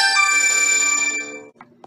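A phone ringtone rings during a Zoom court session, a bright chiming melody that plays loudly for over a second and then cuts off, followed by a couple of faint clicks.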